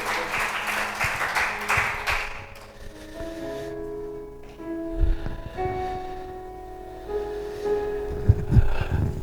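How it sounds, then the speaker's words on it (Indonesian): A church congregation at a Sunday service claps in a brief burst that fades after a couple of seconds, followed by quieter room sounds with soft sustained tones and a few thumps. "Tepuk tangan yang paling meriah bagi Bapak"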